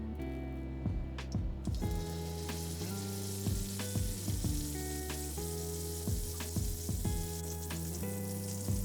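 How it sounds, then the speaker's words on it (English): Salted pork searing in a hot pan gives off a steady, close sizzle full of crackling pops, with occasional low clunks of the meat or pan. No one speaks. "Make sure you give each side a nice sear."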